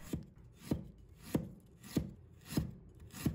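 A knife slices peeled fresh ginger on a cutting board in six steady, evenly spaced chops, close and fairly quiet, with no talking.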